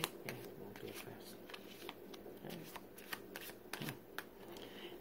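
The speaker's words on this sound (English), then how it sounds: "I would just shuffle it up just like this, nice and slowly" Playing cards shuffled slowly by hand, a string of crisp riffling snaps and soft paper flutters coming in irregular bursts, close up, with no talking over them.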